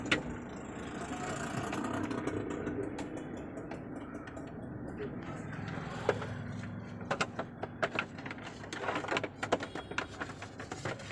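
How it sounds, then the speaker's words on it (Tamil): A Renault Triber's engine idles on CNG, a low steady hum that is followed by clicks, knocks and door-like thumps from nearby mechanisms. "கேஸில் ஓட ஆரம்பிச்சு பெட்ரோல் கேஸில் மாறுது"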